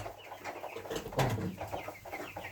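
Broiler chickens in a poultry shed with deep litter keep up a dense, continuous murmur of clucks and chirps, with one louder, closer cluck rising out of the flock partway through.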